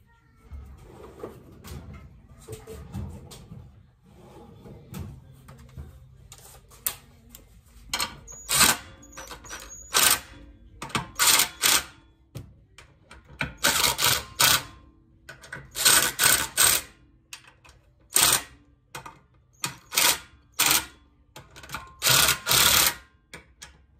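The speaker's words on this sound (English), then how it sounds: "put them on there, tighten them up" Sharp metallic ratcheting bursts come from bolts being tightened on a torque converter fitted to a Predator 212 small engine, arriving in quick irregular clusters that grow denser toward the end, with quiet gaps between.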